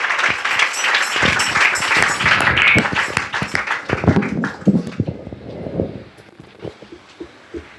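A church congregation claps hands together, dense rapid applause for several seconds that thins into scattered claps and fades near the end.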